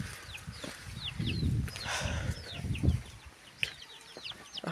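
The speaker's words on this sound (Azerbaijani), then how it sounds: "Baxın burada bir xoruz var." Plymouth Rock rooster with chicks outdoors in wind: a scatter of high, thin chick peeps repeating over low rumbling gusts, with brief soft clucks, fairly faint overall.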